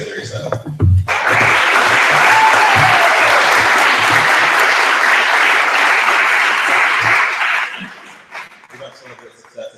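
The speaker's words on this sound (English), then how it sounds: "I feel like we need a larger round of applause" An audience at a diversity and inclusion panel event breaks into loud, sustained clapping for several seconds, then it fades out, with voices briefly heard before and after.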